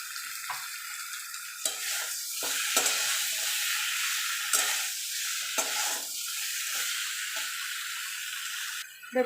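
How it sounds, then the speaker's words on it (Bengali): Papaya and potatoes sautéed with spices in a pan give off a steady close sizzle broken by repeated stirring scrapes and clatters, with a sharper knock near the end. "পেঁপে আলুর সঙ্গে মশলাটা খুব ভালো মতো কষিয়ে নিয়েছি"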